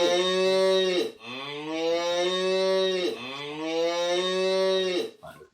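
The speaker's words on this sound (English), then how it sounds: "listen to the noise that the cow makes when it is touched by the baby" A synthesized cow in a Unity video game gives two long, loud moos one after another, each a steady drawn-out tone, followed by a brief clatter at the end.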